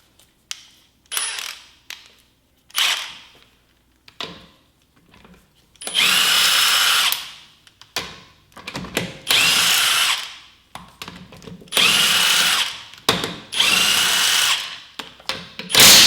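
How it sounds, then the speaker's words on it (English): Impact gun spinning lug bolts off the wheel of a BMW M2 Competition, several loud bursts of whirring and rattling hammering from about six seconds on, each a second or two long, separated by clicks and handling noise. "now we'll take the wheel off with the impact gun"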